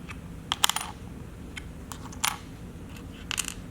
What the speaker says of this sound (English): placing our washers